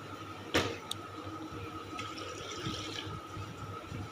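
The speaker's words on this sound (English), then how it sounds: "I'm taking 500 ml of distilled water. I'm pouring this here." Distilled water, measured out in 500 ml amounts, poured into a container in a lab setting: a soft, faint continuous trickle with a sharp clink near the start.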